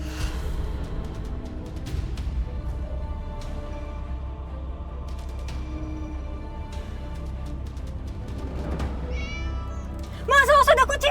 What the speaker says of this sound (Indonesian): awas ada kucing